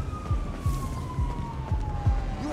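Police or ambulance siren in GTA 5 wails with a falling tone at moderate distance, while a low repeated swooping thump pulses underneath about twice a second.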